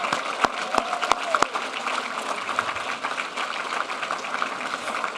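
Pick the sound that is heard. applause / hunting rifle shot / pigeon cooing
applause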